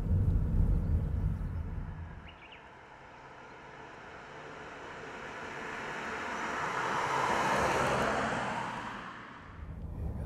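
Inside a moving Toyota Voxy minivan, a low broadband road rumble and tire hum swell and fade gently as the car drives, with no talking.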